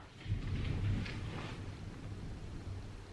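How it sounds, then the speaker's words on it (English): A low, distant rumble of thunder rolling through steady background noise, swelling early then fading into a soft continuous roar. "did y'all hear that thunder?"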